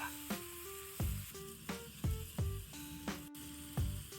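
Meat sizzles on a Big Green Egg grill as compound butter melts on top, a steady frying hiss broken by several sharp louder spurts and pops, close and with no voices.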